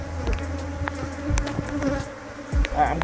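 Honey bees buzzing around an opened hive in spring, a close, steady droning hum with occasional louder passes near the listener, no talking.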